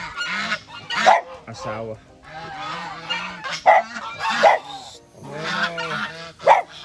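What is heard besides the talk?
geese honking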